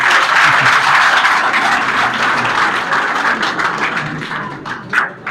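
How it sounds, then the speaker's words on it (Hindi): An audience at a school event in a college hall claps for a teacher, steady loud applause that thins out toward the end with a few scattered claps. "सर के लिए ताली"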